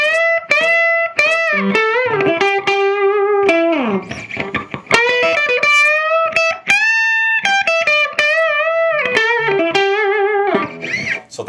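Electric guitar played through distortion on the bridge humbucker, hard rock style: loud, sustained overdriven chords and single notes ringing with rich harmonics, steady and continuous with no talking.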